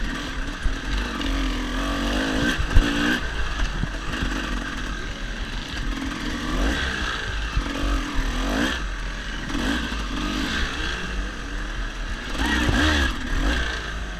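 A dirt bike rides a single-track trail section during a hare scramble off-road race at Fox Valley, its engine droning and revving continuously up close, with clattering and scraping from the terrain throughout.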